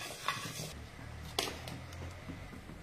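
Mustard seeds, about one and a half spoonfuls, fry in a pan with a steady close sizzle, broken by two sharp crackling pops as seeds burst, with faint metallic scraping from stirring.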